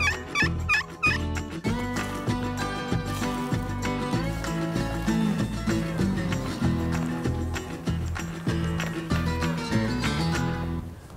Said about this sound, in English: We were hoping when we got to this point, we'd be hearing gobbles in there. And they're doing it.